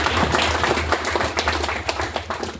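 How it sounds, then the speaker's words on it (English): Applause from an audience at an Austin on Rails developer meetup, a dense, close burst of many hands clapping that holds steady for a couple of seconds, then thins slightly. "let's give them a big round of applause"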